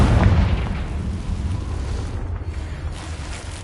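A Confringo blasting-spell explosion in Hogwarts Legacy: a loud, deep rumbling boom that rolls on for several seconds as a dense, sustained roar with no pause.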